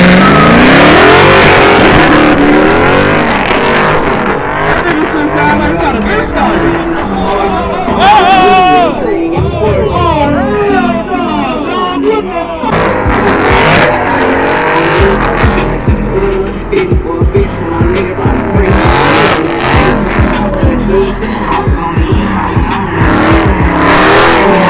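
Dodge Charger Hellcat drifting with loud engine revving and squealing tires, continuous and close throughout, with music and voices mixed in underneath.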